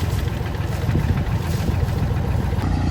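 A small boat's engine idling on the sea crossing in Jaffna, a steady low chugging rumble with wind-like hiss, close and even throughout, no voices.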